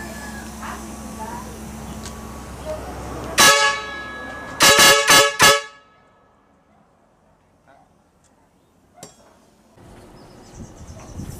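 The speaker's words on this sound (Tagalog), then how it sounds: "Malakas po itong busina na ito." A circuit-driven air horn connected to a compressor blasts once and then several times in quick succession, loud and close, after some talk and with quiet workshop noise following.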